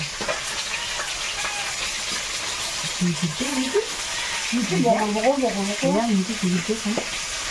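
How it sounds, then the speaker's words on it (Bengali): Mixed river fish from the Sundarbans fry in hot oil in a pan, a steady bright sizzle and hiss running throughout, with voices talking and chatting over the cooking partway through. "এবার সব মাছগুলো একে একে ভেজে নিই"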